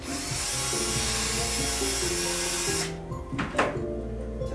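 A power drill bores a hole in a bottle with a loud, steady whine for about three seconds, then stops, followed by a few handling knocks.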